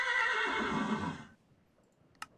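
A horse in Minecraft's Tekkit modpack gives one bright, loud whinny lasting about a second, followed by quiet and a single short tick.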